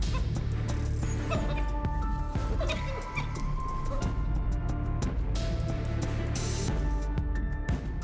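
Wild dogs yip and whimper in short, scattered calls against a dense, steady background bed, with a sharper burst of high yelps midway through.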